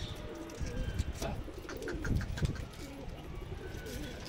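Pigeons coo softly in a low, murmuring chorus, with faint chirps and rustling around them and some indistinct background voices.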